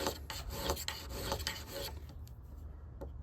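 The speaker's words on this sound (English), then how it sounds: "present that spine to the diamond stone at a 90-degree angle, and drag back about 10 or 20 times" The spine of a stainless Mora Companion knife drags back and forth across a coarse diamond stone, making close, gritty rasping strokes in a steady rhythm that thin out and fade toward the end, with no voices.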